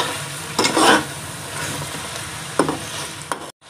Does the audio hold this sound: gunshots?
no